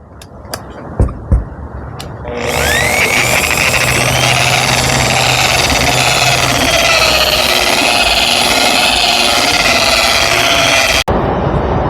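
A GEVEELIFE buffer polisher spins up at low speed after a few handling knocks, then holds a loud, steady motor hum and whir for roughly eight seconds before cutting off with a brief thump.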